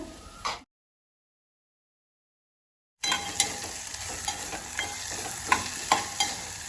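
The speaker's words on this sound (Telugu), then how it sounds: "ఇదంతా కరివేపాకు పుదీనా కొత్తిమీర ఇదంతా వేసుకుందాము ఇది కూడా కొంచెం ఫ్రై అవుతే" Curry leaves, mint and coriander fry in a pan for millet upma, a steady sizzle with light stirring scrapes resuming after a silent gap.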